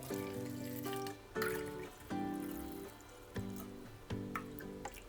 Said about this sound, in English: Now I just add the rest of the water in here.